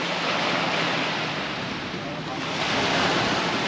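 Wind and surf at Playa los Cocos beach: a broad, continuous rushing hiss of breaking waves mixed with gusty wind buffeting the microphone, swelling slightly toward the end.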